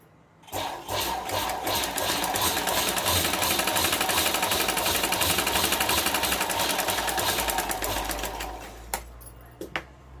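A domestic sewing machine stitches cloth for a small handmade purse in a fast, even mechanical rattle that runs for several seconds, then stops with a few clicks and knocks.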